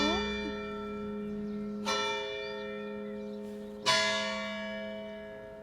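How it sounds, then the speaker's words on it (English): A church bell rings in an Italian town, struck twice about two seconds apart. Each strike is loud, with a long, clear hum that decays slowly. "And this is where the bell ring comes from."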